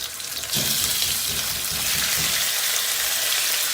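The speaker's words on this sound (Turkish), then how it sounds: "Arkadaşlar tenceremizde yağımız ısınmaya başladı. Hemen tavukları atıyoruz." A loud, steady sizzle bursts in and keeps hissing as chicken pieces hit hot oil in a pot, crackling continuously close by.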